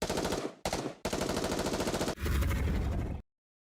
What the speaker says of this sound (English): the crack of gunfire rings out,